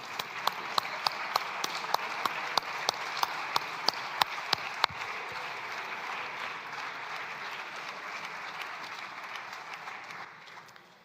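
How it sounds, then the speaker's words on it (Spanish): Applause fills a parliament chamber in tribute, with a dense, steady wash of many hands clapping, sharp individual claps standing out over the first half before the ovation carries on evenly and tapers at the end. "que hagamos un aplauso en señal de respeto y de reconocimiento"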